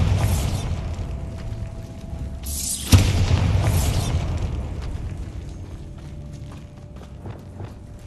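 A Bombarda spell detonates in Hogwarts Legacy, a single sharp boom near the three-second mark over a steady rumbling game backdrop, with smaller pops and scuffling movement following.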